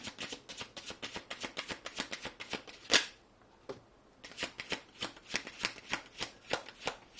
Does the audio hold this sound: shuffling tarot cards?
yes